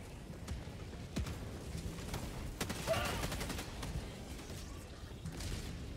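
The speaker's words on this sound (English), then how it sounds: "I'm getting shot through a wall." Enemy gunfire in Helldivers 2 crackles in scattered bursts of sharp shots, fairly faint and muffled as if coming through a wall or rock. The shots repeat irregularly over low background rumble.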